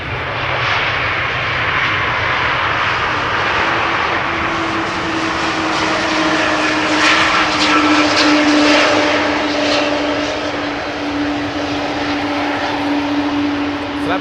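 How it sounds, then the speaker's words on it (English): An Air France airliner on final approach to Amsterdam Schiphol roars steadily overhead, a loud, continuous engine drone with a rising whine, while a voice speaks faintly beneath it. "Air France Flight 1500 on the glide slope."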